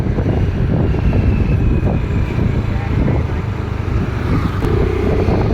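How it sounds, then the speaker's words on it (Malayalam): Steady cold wind rushes past a moving vehicle on a night drive over a low engine rumble, continuous and fairly loud from start to finish. "നല്ല നല്ല തണുപ്പ് ഉള്ള കാറ്റുണ്ട്."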